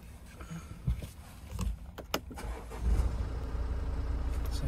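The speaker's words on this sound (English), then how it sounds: "if I start the car" A BMW F45 2 Series car starts up: a few interior clicks and thumps, then the engine cranks and catches into a low, steady idle heard from nearby.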